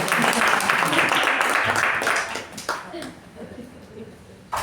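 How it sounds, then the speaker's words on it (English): A round of applause in a meeting room greets two people being admitted, the clapping loud at first and then tapering off into scattered claps and murmuring voices, with a sharp knock or bump at the end. "Let's give a round of applause for them."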